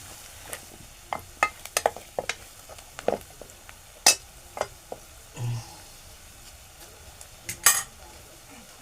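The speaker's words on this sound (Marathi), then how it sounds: "आपण आता परतून घेऊ. कांदा आपला चांगला गरम हे लाल झालाय" Onion and vegetable gravy sautéing in a pan as a ladle stirs it, with a low sizzle under repeated sharp scrapes and clanks of metal on the pan.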